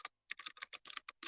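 Code is typed on a computer keyboard in quick, uneven bursts of close, crisp key clicks, a short pause after the first tap, then a rapid run of keystrokes with no voices.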